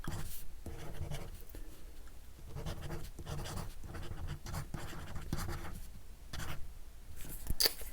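A pencil-style stylus writes on a reMarkable 2 electronic ink tablet, giving a continuous close scratching of repeated strokes with brief gaps between them.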